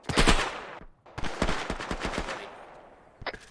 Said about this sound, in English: Can you ping which building the machine gun is? Where the Dishka is?